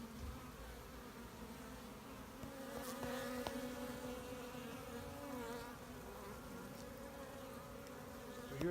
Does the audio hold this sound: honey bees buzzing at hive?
yes